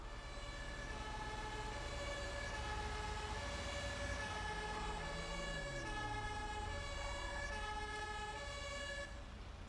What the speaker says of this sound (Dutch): Waarom hebben jullie politie-sirene?